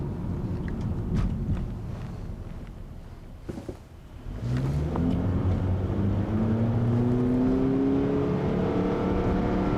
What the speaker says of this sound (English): Now you can hear that is Honda's new CVT, and yes, it does sound like a CVT.